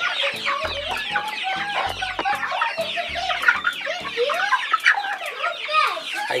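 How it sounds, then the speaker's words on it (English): Newly hatched chicks peep in a busy, high chorus of short chirps, close and continuous, with a few low thumps and faint clucking mixed in. "so these chicks will be very warm now"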